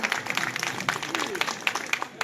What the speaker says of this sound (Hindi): एक बार ताली बुलाकर उनका स्वागत करिए